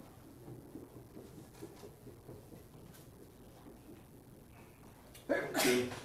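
A single sharp sneeze bursts out near the end after a stretch of quiet courtroom noise and faint murmuring during a murder trial.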